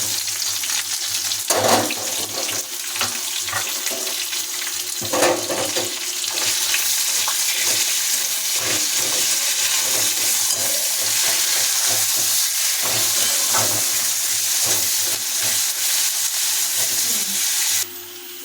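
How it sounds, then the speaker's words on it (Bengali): Chopped onions dropped into hot oil with bay leaf, dry chilli, garam masala and whole cumin, a loud continuous sizzle and crackle with periodic stirring scrapes, a faint voice now and then. "এবার বন্ধুরা দিয়ে দেবো কেটে রাখা পেঁয়াজ"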